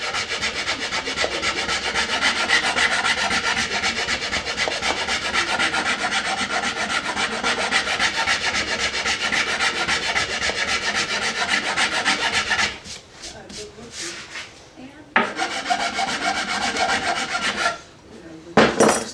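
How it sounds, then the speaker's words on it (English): File rasping wood off an Ishi style bow, a long steady run of close scraping strokes, then a few short pauses between bursts near the end. "So I'm going to use a file to remove wood a little bit faster than the sandpaper."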